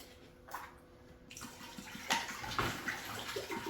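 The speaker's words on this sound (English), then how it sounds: "I'm going to be pouring in half of the bottle of pomegranate blueberry acai." Pomegranate blueberry acai juice is poured from a bottle in a kitchen, a gurgling, splashing stream that swells after a brief pause and keeps running, with no talking over it.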